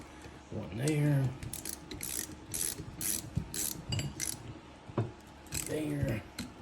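A socket ratchet tightening bolts on a Baja build: several bursts of rapid clicking pawl ratchets, close and distinct, with quieter mechanical handling and a brief voice in between.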